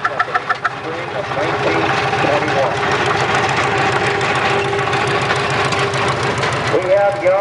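A 1921 antique tractor engine chugs steadily with a low, rhythmic pulse during an outdoor antique parade, loud and continuous, with a few sharp bursts at the start and crowd noise and voices around it.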